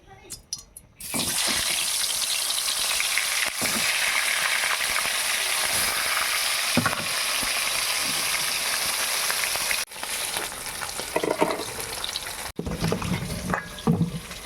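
Baul fish pieces fry in oil in a slightly burnt wok, giving a loud, continuous sizzle that cuts out briefly twice and resumes, with a short quiet start.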